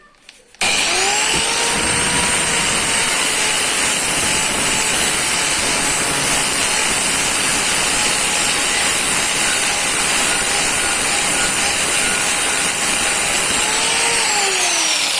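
A high-pitched power grinder whines steadily and loudly on the metal engine frame of a scrap Peugeot 103 moped for the whole stretch after a brief quiet start, with a harsh abrasive hiss underneath.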